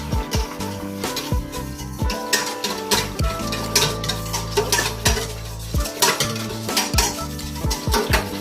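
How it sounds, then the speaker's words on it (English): Yeast stirred into lukewarm water in a bowl for homemade Italian bread dough, with a utensil clinking and scraping against the bowl in quick, uneven strokes, close and fairly loud with no talking. "we just start mixing the yeast"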